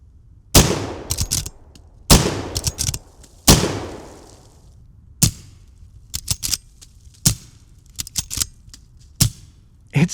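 A Smith & Wesson 1854 lever-action rifle with a 16.5-inch barrel fires .357 Magnum and .38 Special rounds outdoors, delivering about eight sharp, loud shots at uneven intervals. The first three ring out with longer echoing tails, and faint clicks and clatter of the action sound between shots.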